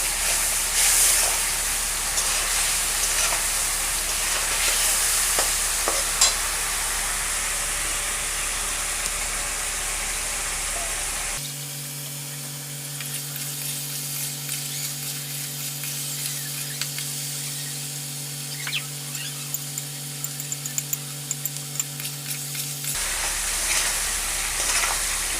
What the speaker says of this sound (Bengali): মশলাটাকে একটু ভালো করে কষিয়ে নেব।